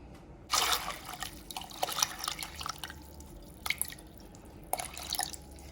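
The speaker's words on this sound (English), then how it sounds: "I am going to add some water to this." Water splashes and pours onto dried black-eyed beans in a container, a few distinct bursts with dribbling in between, close and moderately quiet.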